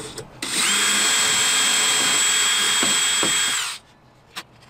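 A power drill boring a hole through a drill guide with a shallow collar whines steadily at high speed for about three seconds, close and loud, then winds down and stops, followed by a faint click.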